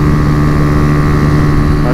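A Honda Fan 125 motorcycle with a Fortuna exhaust drones loudly at close range, its engine note steady and rough throughout with no voices over it.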